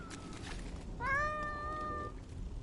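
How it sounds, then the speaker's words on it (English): An unhappy cat lets out a single drawn-out, complaining meow, clear and fairly close against a faint background, with no talking. "Oh, that kitty is not happy."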